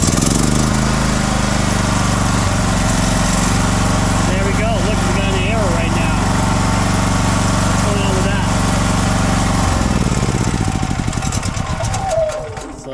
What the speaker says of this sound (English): the engine will turn over once you put the choke in, and you'll hear it.